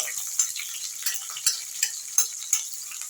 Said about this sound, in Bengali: নাড়িয়ে নিয়ে আমি এই পেঁয়াজগুলো দিয়ে দেবো পেঁয়াজগুলো সামান্য একটু নাড়াচাড়া করে